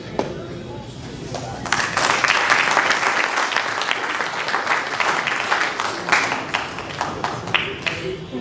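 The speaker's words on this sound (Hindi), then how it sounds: "जोरदार ताली बजती रहनी चाहिए आशीष कुमार गुप्ता जी के लिए।" An audience at a theatre award ceremony applauds loudly, a dense sustained clatter of many hands that swells and holds, with a voice talking over it near the start.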